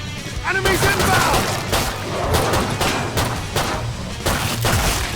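Rapid gunfire from dual pistols in the zombie shooter Killing Floor 2, a dense string of loud sharp shots with booming impacts mixed with game noise, with a voice briefly audible under it.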